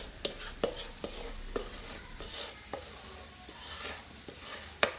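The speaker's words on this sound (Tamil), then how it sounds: "சேர்த்துட்டு இதை நல்லா மிக்ஸ் பண்ணி விடுங்க" Spoon stirring a rava mixture with fried nuts in a pan, scraping and knocking against the metal in irregular strokes over a faint sizzle.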